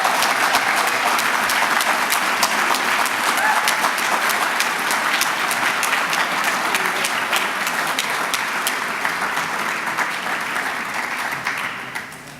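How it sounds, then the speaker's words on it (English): Sustained applause from a gala audience honoring the Boys Sports Coach of the Year at a regional high school all-star event, a full, even roar of clapping that holds for several seconds before tapering slightly at the end. "one more hand of applause for Coach Luke."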